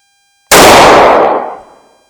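A single loud gunshot from a Kel Tec PF9 9mm pistol with a 3.1-inch barrel, fired with defensive ammunition, bursting sharply out of silence and ringing off over about a second.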